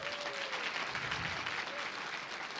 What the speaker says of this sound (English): please give a round of applause for Ayana Rodriguez,